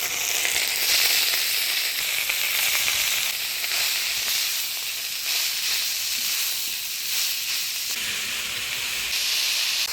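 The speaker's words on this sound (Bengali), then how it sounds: "মটর শাকে ফোড়ন দিব শুকনো লঙ্কা, গোটা জিরা, তেজপাতা।" Pea greens frying in oil tempered with dried red chilli, whole cumin and bay leaf sizzle with a loud, steady hiss that holds for the whole stretch, close and alone without talk.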